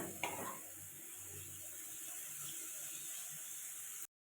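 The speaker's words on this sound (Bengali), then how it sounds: "পেঁয়াজটা প্রথমে ভাজা করে তারপরে সব সবজি দিয়ে আমি ভালো করে এখন ভেজে নিচ্ছি" Onion and mixed vegetables fry with spices in a pan for egg chowmein, giving a steady close sizzle and hiss with a faint stirring scrape near the start, cutting off abruptly at the end.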